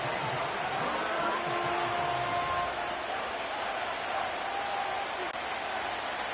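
Football stadium crowd noise on a third down, a steady broad roar of many voices from all around, with a commentator talking over it.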